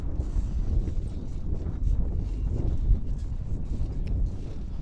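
Wind gusts across an outdoor cricket ground in Bentonville, Arkansas, producing low buffeting rumble against the microphone, moderately loud and continuous with no talking.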